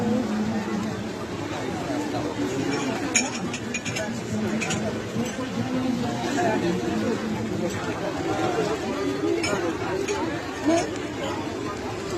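Crowd chatter at a fair in heavy rain: a dense, steady babble of many voices that fills the whole stretch, with rain and general bustle underneath.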